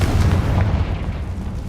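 A Confringo fire-spell explosion in the video game Hogwarts Legacy: a loud, deep, rumbling blast that fills the short moment and fades slightly toward the end, with no voices.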